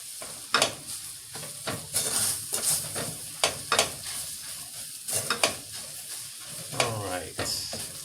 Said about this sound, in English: Oh, you hear the sizzle sizzle?